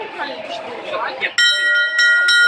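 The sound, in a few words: small bell ringing on a sailing ship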